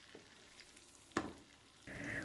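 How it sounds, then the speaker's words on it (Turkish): Butter and vegetable oil heating in a wide nonstick pan over the lowest flame, a faint, close sizzle with a sharp clink near the middle and livelier frying toward the end. "Uygun bir tavanın içerisine 50 gram tereyağı ekliyorum. Ocağın en büyük gözü en kısık ateşte kavurma işlemine başlıyorum."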